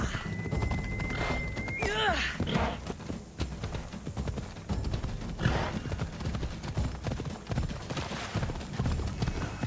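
Rhythmic clip-clop of hooves runs throughout with a horse whinny early on, under a busy mix of Assassin's Creed Odyssey game sounds and a voice talking.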